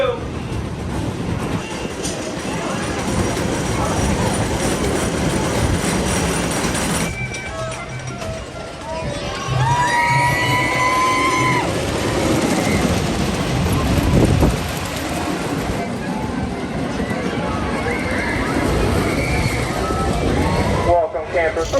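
Zach Zoomer, a small kiddie roller coaster at Michigan's Adventure amusement park, rumbles and clatters steadily along its track for over twenty seconds, with rattling wheels, a brief lull, and swells of noise as the train runs the circuit.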